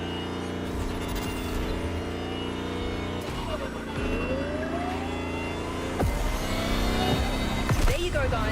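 Lamborghini Terzo Millennio electric hypercar in The Crew Motorfest racing to the finish: a steady, loud synthetic engine whine with rising pitch sweeps, building louder over the last seconds, with game music and effects layered over it.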